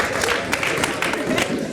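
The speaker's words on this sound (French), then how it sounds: "On va l'applaudir." A studio audience on a radio show gives a short burst of applause, dense clapping filling the whole brief moment at an even level.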